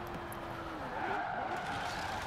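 A Hot Wheels Bone Shaker car driving in the video game Forza Horizon 4, its engine holding a steady droning note with hints of tire squeal and skidding, fairly faint and continuous.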